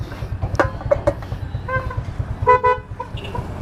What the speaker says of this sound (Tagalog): Makukusog ang busina.